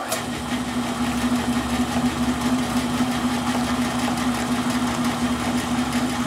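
A pole engine runs at about 400 RPM with a steady, even mechanical hum and rhythmic vibration, moderately loud and continuous, no voices.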